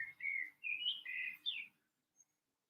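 Birds chirp outdoors in a quick series of clear, high tweets, four or five short bursts close together, followed by near silence and one faint distant peep.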